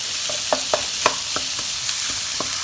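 Onion frying in a pan for a Kerala-style fish masala, with a continuous hiss of hot oil and irregular light taps and scrapes of a spoon stirring, close and steady.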